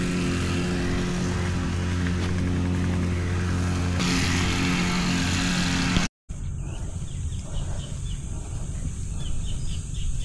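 A small farm machine engine running fast and noisy with a steady droning hum and strong tonal whine, then after a brief cut a rougher, busier engine rumble continues close by.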